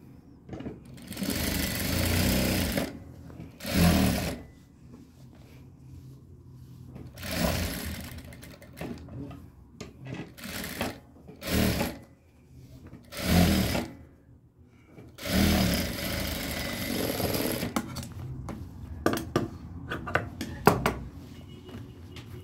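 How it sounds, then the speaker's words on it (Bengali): Sewing machine stitching a narrow edge seam on the neck facing strip of a kameez, running in fast whirring bursts of a few seconds each, with quiet pauses between them. "তারপরে গলার যে পট্টিটা আছে এই পট্টির উপর একটা লবে সেলাই দিবেন কিনারে।"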